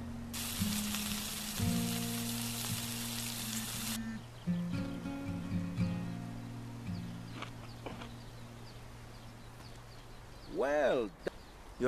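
Meat sizzles while cooking in a survival video game, a soft continuous frying hiss beneath steady game music tones, with a few small clicks and a brief swooping sound near the end.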